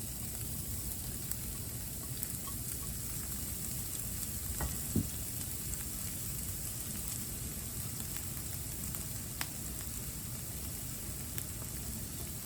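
Ginger and carrots frying in a warmed-up pan for carrot fried rice, a steady, fairly quiet sizzle over a broad hiss with a few faint clicks, no talking.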